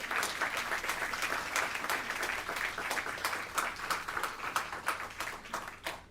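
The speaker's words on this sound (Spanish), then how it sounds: "Primer aplauso en todo el mensaje" A church congregation applauds during a sermon, with steady, dense clapping sustained at moderate loudness throughout before tapering off at the very end.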